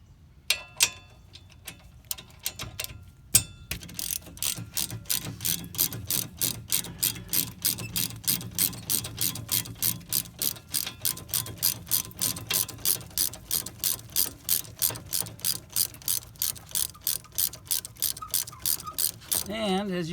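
A ratchet clicks rapidly and evenly while unscrewing a bolt on the front brakes of a 2005 Ford Escape Hybrid, with a long run of close, sharp pawl ticks after a few scattered clanks.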